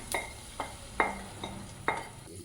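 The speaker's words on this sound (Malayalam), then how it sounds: "പിന്നെ അണ്ടിപ്പരിപ്പും ബദാമും കൂടി വറുത്തിട്ടു." Cashews and almonds roasting in ghee in a pan for banana halva, with five distinct spoon scrapes and stirs at a steady rhythm over a faint sizzle, close up and no talk.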